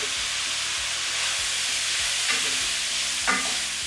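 Beef for stroganoff, seasoned with salt and pepper, sizzles steadily in a pan while a utensil stirs it in a regular scraping rhythm, with a couple of louder clatters near the end and no talking.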